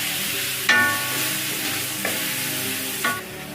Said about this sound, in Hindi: और माशाल्लाह से देखें चिकन को हमने फ्राई किया है, और अभी इसमें ऐड करेंगे टमाटर का जो पेस्ट है,